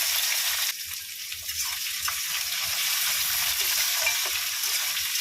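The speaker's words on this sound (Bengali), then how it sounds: "এবার আমি পেঁয়াজগুলো কেটে রেখেছিলাম, পেঁয়াজগুলো ভেজে নেব" Onions frying in oil with whole spices such as dried red chilli, cinnamon, cardamom, cloves and bay leaves, a continuous close hiss that swells and steadies after a brief dip, no talking.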